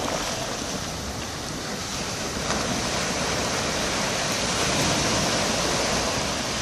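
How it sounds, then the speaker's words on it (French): Ocean waves breaking at dusk at Saint-Paul, Réunion, a steady, broad roar of surf and wash, building slightly louder toward the end, with no voices. "Alors profitons de la dernière vague."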